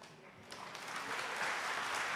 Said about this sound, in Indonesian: Tepuk tangannya bisa lebih dahsyat dari ini dong